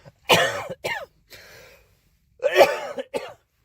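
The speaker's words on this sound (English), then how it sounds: "It's just normal cough." Several short, harsh coughs come in separate bursts, with a throat-clearing rasp between them, close and fairly loud with brief silences in between.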